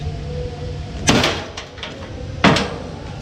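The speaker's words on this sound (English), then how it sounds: "Let me see if I can knock that little ding out." Two sharp, hollow knocks strike a bent lawn mower hood to pound out a dent, spaced about a second apart over a low background hum.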